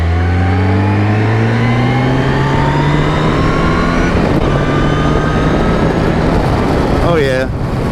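A Yamaha FJR 1300 ES sport-touring motorcycle accelerates hard with a loud engine whose pitch climbs through successive gears, heard close under rushing wind noise, ending in a brief burst of buffeting.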